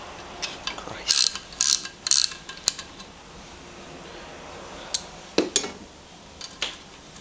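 Socket wrench working a bolt on a 1973 Briggs and Stratton 3hp engine, a series of sharp ratcheting clicks and metallic taps, close and intermittent, in a quiet setting.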